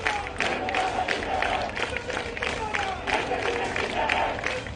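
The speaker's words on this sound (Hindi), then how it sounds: "ताली बजाकर नारेबाजी हो रही है" Crowd of masked nurses on strike outside AIIMS hospital in Delhi, clapping and chanting slogans together, a dense, continuous mass of voices and hand claps with rising shouted phrases throughout.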